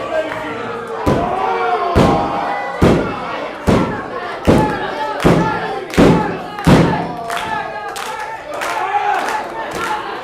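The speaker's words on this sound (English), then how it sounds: "the boot of Phoenix catches Angel Camacho right where nobody wants to be caught" Heavy thuds land in a steady rhythm at an IZW Adrenaline wrestling show as a boot kick hits an opponent, each impact followed by a rising roar from the crowd.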